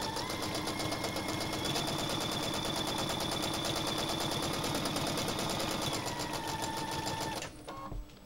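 A sewing machine stitches appliqué in swerves and curls on a baby quilt, a loud rapid mechanical chatter that runs steadily for about seven seconds before stopping with a click.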